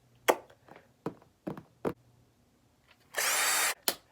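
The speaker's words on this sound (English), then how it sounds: "I'm going to use a drill just because that's going to be the easiest option for me" An electric drill runs in one steady burst of about half a second, boring holes in the clear lid of a plastic propagation box. A few sharp knocks and handling clicks come before and after, with no talk.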